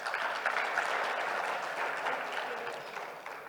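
Audience applause at a business expo forum in Botswana, a steady wash of clapping from a crowd held at an even level throughout.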